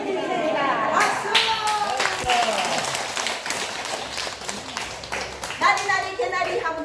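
A group of children and adults clap hands together in a bouncy rhythm during a sing-along activity, with several quick sharp claps standing out over voices that chant and talk throughout.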